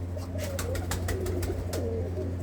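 Pigeons cooing in a loft, a few soft coos against a steady low hum and scattered sharp clicks, fairly faint and continuous.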